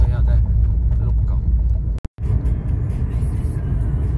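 A car creeping slowly along a snowy mountain road, a steady low engine and tyre rumble heard close from inside, with a brief dropout midway and someone talking over it.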